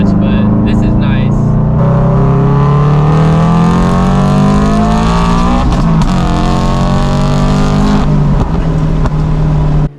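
A Scion FRS with a loud aftermarket exhaust accelerates hard, its engine note climbing steeply through the gears with a brief dip at a shift, close and very loud, then cutting off abruptly at the end.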